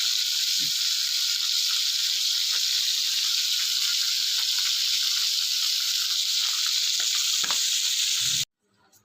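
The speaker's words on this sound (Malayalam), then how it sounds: "ആനച്ചവിട്ടി അടിപൊളിയായിട്ട് വറുത്തു" Anachavitti being fried in a pan with grated coconut and curry leaves gives a steady, close sizzle and hiss that runs unbroken with a few soft stirring knocks, then stops abruptly near the end.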